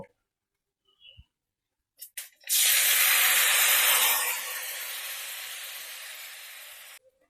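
A blended paste of prawn scraps and trimmings dropped into hot oil for a Bengali prawn curry, bursting into a loud, close hiss and sizzle that slowly fades but continues until cut off, after a few light clatters.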